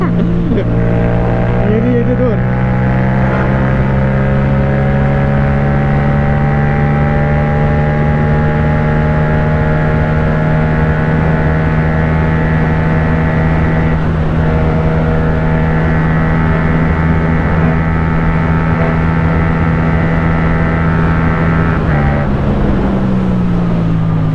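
A Yamaha MT-07 motorcycle engine held at high speed on a top-speed run, a loud steady drone with strong wind rush and a slight pitch rise, then a gear change near the end, heard from the rider's position.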